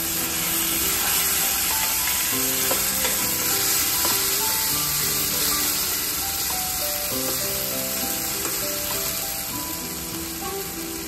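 Tomato paste hitting hot masala in a pan for a drumstick subzi, giving a constant bright, hissing sizzle with faint clinks and scrapes of stirring underneath, close up and steady throughout.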